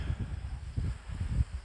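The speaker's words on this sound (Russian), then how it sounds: "Очень сильный ветер" Strong wind on the Sea of Azov coast buffets the microphone in low, gusting rumbles, with no other sounds standing out.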